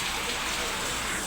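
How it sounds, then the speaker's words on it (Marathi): Rain falls steadily at a farmhouse in rural Maharashtra, a continuous close hiss of drops on surfaces filling the short moment. "इथं पाऊस बघ कशी आहे पडले."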